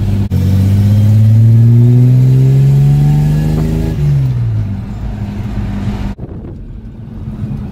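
A Ford EF Falcon engine drones steadily while driving, its pitch rising through a gear before shifting and settling, then easing off as the car slows near the end; loud and close throughout with no talking.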